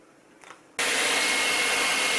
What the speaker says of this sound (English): I did use a hairdryer just for a short while, just to warm the glue up